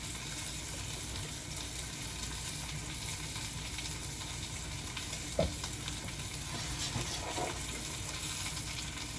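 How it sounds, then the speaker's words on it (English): Mushrooms frying in avocado oil in a pan give a steady, dense sizzle throughout, with a faint clink of a utensil midway and no talking. "I'm gonna go ahead and start working on my mushrooms. A little avocado oil."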